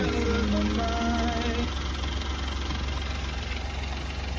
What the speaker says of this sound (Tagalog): Nara yang makina mga bossing oh.